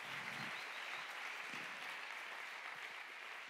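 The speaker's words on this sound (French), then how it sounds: "que je vous propose d'applaudir" Steady crowd applause fills a conference hall as a media founder is welcomed on stage at a climate communication event; many hands clap in an even, sustained patter, fairly soft and roomy, with no voices.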